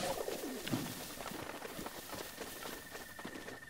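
Bird cooing in the video game The Legend of Zelda: Breath of the Wild, soft pigeon-like calls early on over a faint, airy ambient game background, with no voices.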